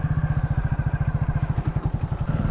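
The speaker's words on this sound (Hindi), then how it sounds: "जब बाइक चला रहे हैं तो बाइक की प्रॉब्लम पता रहती है" A motorcycle engine rides along a jungle track in Jim Corbett, its rapid steady thumping pulse close and loud, with a slight wavering as the pace shifts.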